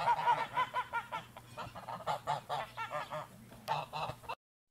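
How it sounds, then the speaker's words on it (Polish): A goose honks repeatedly in loud, nasal bursts, a steady series of calls close by, with other barnyard fowl noise faintly underneath. "Gąska."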